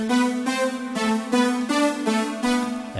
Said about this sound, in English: I use two synths this time, and then they sound like this.